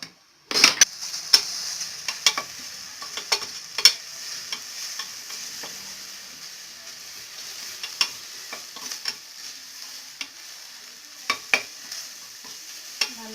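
Food fries steadily under a lid in a pan, giving an even, constant hiss with scattered small pops and ticks, close and moderately loud, with no voices.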